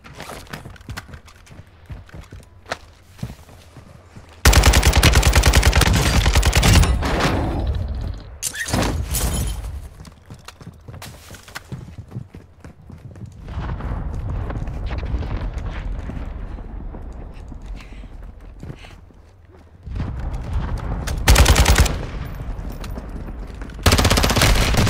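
Loud bursts of RPK machine gun fire in Warzone 2 rip out in long sustained volleys around 5–8 s, 9–12 s and 20–25 s, separated by quieter stretches of game ambience and softer distant shots.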